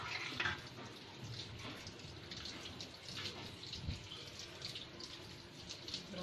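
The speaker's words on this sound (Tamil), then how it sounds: "லாஸ்ட்டாக இதுவும் மஞ்சத்தூள் போட்டு நல்லா வாஷ் பண்ணி எடுத்துருவோம்." Water runs steadily while cleaned fish are washed with turmeric at a fish market, a continuous splashing rush with faint handling noises underneath.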